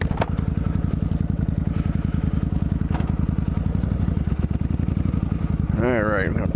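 A 1999 Suzuki VZ800 Marauder with an 805cc engine chugs close by in a steady, rapid thumping rhythm, and a voice cuts in briefly near the end.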